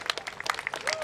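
Short burst of scattered hand claps from wedding guests applauding the couple during a toast at a Marathi wedding in Vasai, Maharashtra, with a brief faint tone near the end.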